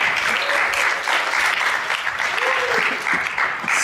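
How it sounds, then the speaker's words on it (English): Sustained applause from a conference audience after a malware demonstration, dense and fairly close, with faint voices and a whistle-like tone mixed in. "Come on, more applause, because this is the first demo from Interpol"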